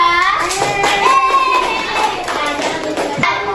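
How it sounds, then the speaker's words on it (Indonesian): A classroom gives a small group a round of clapping, a few scattered hand claps heard under a sustained tonal, singing-like voice or music that dominates the sound. "beri tepuk tangan dulu untuk kelompok 2"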